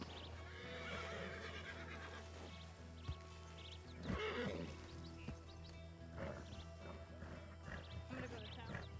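A horse whinnies loudly amid steady outdoor ambience, with scattered hoof clops and faint background noise, in the video game RedM (Red Dead Redemption 2 roleplay).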